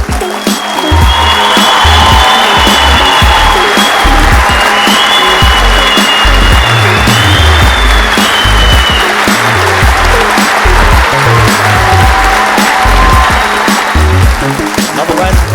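Sustained loud applause and cheering from an audience at a school arts awards ceremony at Wellington College, greeting the Big Band as top arts group, a dense steady wash of clapping with whoops throughout.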